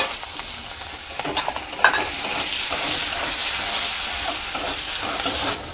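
Chopped onions hit hot oil with spices and sizzle steadily, with a few soft stirring scrapes and clicks over a constant close frying hiss.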